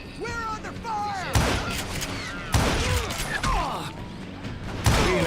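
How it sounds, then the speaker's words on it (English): Gunshots crack in the Call of Juarez: Gunslinger video game, several loud reports spaced a second or so apart with ricochet-like whines and mechanical clatter in between, amid a tense game soundscape. "Who's shooting at us? We're under fire!"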